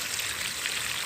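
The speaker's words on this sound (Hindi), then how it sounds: "ये बोरवेल से पानी चला रहे हैं" Water from a borewell pours steadily into a pond, a continuous broadband rushing and trickling wash that stays even and close throughout with no pauses.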